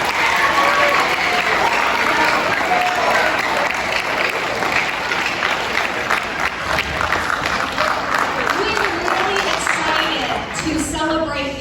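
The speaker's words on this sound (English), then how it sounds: "give yourself a round of applause" Middle school students at a seventh grade year-end celebration applaud together in a long, full burst of clapping that stays strong before thinning out near the end.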